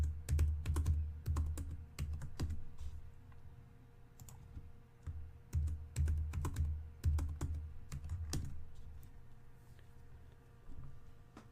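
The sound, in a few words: typing a username and password on a computer keyboard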